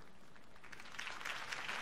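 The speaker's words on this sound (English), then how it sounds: "If only Mr. Wayne, my campaign's largest backer, could have heard that applause" Crowd applause at a political campaign speech in the video game Batman: The Telltale Series, a faint steady clapping that swells slightly toward the end.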